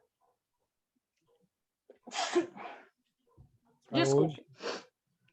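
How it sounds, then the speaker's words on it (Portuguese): Two sharp sneezes from a teacher in the middle of a technical drawing lesson, the second louder and more forceful, heard close in an otherwise quiet room, followed by a brief spoken apology. "Ai, gente, vou espirrar."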